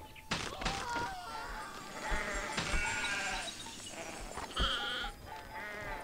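Sheep bleat several times in the video game Hungry Dragon, wavering calls mixed with thuds and other game effects at moderate level.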